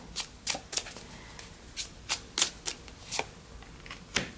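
Tarot cards shuffled for a three-card pick, a series of crisp close riffling bursts separated by short pauses, with no talking.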